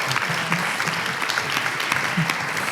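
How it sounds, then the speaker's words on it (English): A round of applause at the Black Legend Awards ceremony in Silicon Valley, many hands clapping continuously at moderate loudness throughout, with no speech over it. "All right, so one more round of applause."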